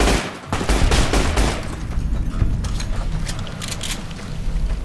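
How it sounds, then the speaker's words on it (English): Rapid gunfire from weapons in the video game Fallout: New Vegas, a loud, continuous barrage of overlapping shots and bursts with no talking. "I just love shooting where the cinematic shows because it, like, you can just see the bullets popping."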